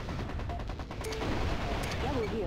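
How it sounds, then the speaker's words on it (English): Enemy gunfire in the MechCommander Gold mech combat game, a dense, steady rattle of shots and explosions that runs through the whole stretch over a constant battle din. "Taking enemy fire."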